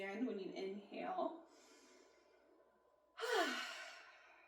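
Deep breaths during a seated chair exercise: a long voiced exhale and sigh, a quieter pause, then a strong audible inhale-exhale gust, close and breathy, with a speaking voice mixed in.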